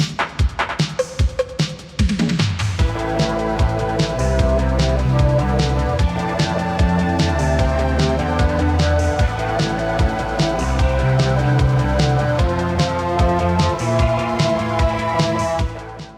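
A Russian post-punk beat, made in FL Studio, opens with a sparse intro for about two seconds. A loud, steady groove then runs with driving drums, bass and synths, and no voice is heard.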